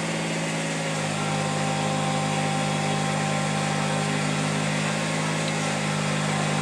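A tractor engine runs steadily while lifting with its bucket, a continuous, even drone with a constant hum and no pauses, close and fairly loud.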